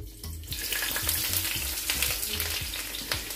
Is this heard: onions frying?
yes